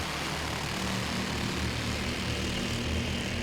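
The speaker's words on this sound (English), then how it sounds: "As the green flag is out, they come up to speed." Champ karts at Langley Speedway roar up to speed at the green flag, a dense, loud, continuous engine drone from several karts blending together, with no voices over it.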